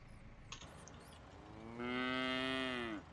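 Cow mooing in the farming video game Professional Farmer: Cattle and Crops, one sustained low moo of about a second rising out of quiet background ambience, heard alone.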